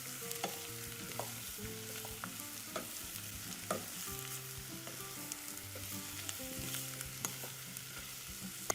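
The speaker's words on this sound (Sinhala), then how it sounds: "කලවම් කරගෙන මේ කොහිලාල කැබලි ටික ටිකක් තෙලෙන් ටෙම්පරාදු වෙනකම් විනාඩියක් විතර කලවම්" Pieces of kohila frying in hot oil and being stirred in a pan, a steady close sizzle with scraping clicks from the stirring utensil, no voices.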